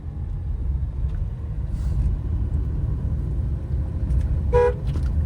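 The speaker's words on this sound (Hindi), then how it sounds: "लॉन्ग हॉर्न प्रेस किया करिए, टी करके मत बजाया करिए" A single short car horn toot sounds near the end over a steady low engine rumble inside a moving car during a driving lesson.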